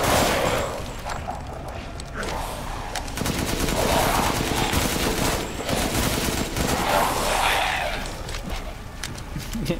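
AK rifle fire in Resident Evil Village, heard as several sustained bursts of rapid automatic shots, loud and close, separated by short pauses, with a voice speaking faintly between them.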